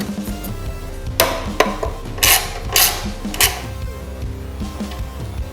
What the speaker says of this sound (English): now it's time to tighten the back fairing bolt and put back the front one